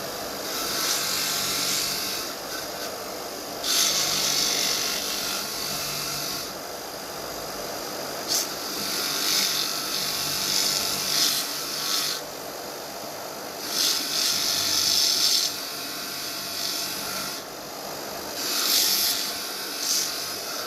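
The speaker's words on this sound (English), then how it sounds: "we're going to go down to the wire wheel. Give this" A wire wheel scrubs the pinch bolt for a ball joint on a suspension wishbone, giving a steady hissing, scratching grind with repeated louder bursts as the bolt presses in and backs off.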